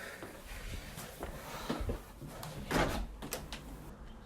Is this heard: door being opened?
yes